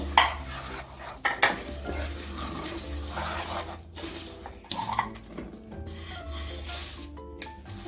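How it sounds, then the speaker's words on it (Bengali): Flattened rice stirred by hand into hot jaggery syrup in a pan, a steady scraping and rubbing with soft clinks of the utensil against metal, close and moderately loud, no talking. "এখন আমি গরম অবস্থাতেই চিরাগুলো গুড়ের মধ্যে দিয়ে দিচ্ছি অল্প অল্প করে দেবো আর মেশাবো"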